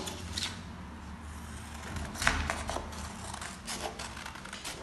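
Scissors snip through folded origami paper while a paper dog is being made, a few crisp close cuts with rustling paper between them, quiet and with no talking over them.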